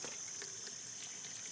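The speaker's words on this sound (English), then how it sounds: "so it's starting to drain over there" Water draining out of an aquaponics grow bed, a steady, faint trickling hiss of flowing water that runs without a break and carries no voices.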